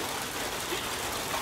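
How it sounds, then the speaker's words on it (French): Steady rain falling outside after a party, a soft even wash of droplets on surfaces with no breaks and no voices. "Regardez-moi un peu cette pluie."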